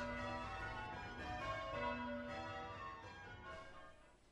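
Church bells ring out in change ringing, steady overlapping peals with a bright metallic tone, heard alone at a moderate distance and fading slightly toward the end.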